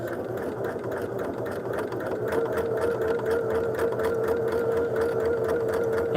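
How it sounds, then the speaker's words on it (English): A sewing machine stitching quilt strips, a close, steady mechanical whir with a fast rhythmic needle chatter running unbroken throughout. "We're going to sew on that line."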